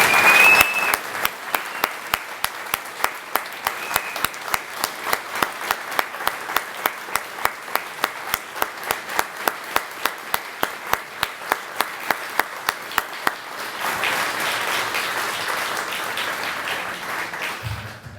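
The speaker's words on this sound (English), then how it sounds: "Please join me again in a warm round of applause for Navy veteran Mr. Jonathan Asher." Audience applauds a Navy veteran at a memorial dedication: a sustained round of steady, dense clapping that holds for most of the stretch, then softens into looser, scattered claps near the end.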